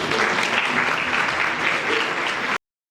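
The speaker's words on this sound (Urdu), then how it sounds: "نیچے بیٹھے تالیاں بجا دیں کوائر" A church congregation at a Sunday advent worship service claps for the choir, a dense, steady round of applause that fills the space and then cuts off abruptly.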